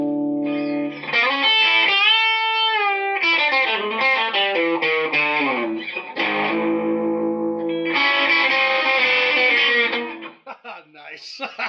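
Distorted electric guitar through a Vox AC15 amplifier playing a series of sustained chords and note runs, loud and continuous, with a brief gap before a final burst of strummed chords that trails off into scattered notes.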